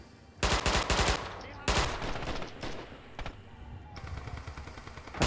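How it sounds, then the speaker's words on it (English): Machine gun fire in the video game Red Orchestra 2 comes as loud, close rapid bursts, then lighter scattered shots and distant fire as a voice speaks briefly. "I can hear a machine gunner."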